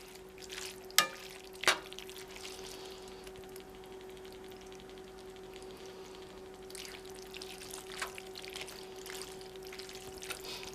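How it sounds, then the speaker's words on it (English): Canned tomato sauce slides and glugs into a cooking pot, a soft, close pouring and gentle sizzle after two sharp clanks near the start, with a faint steady hum underneath. "Now you can add as much of the tomato sauce as you want."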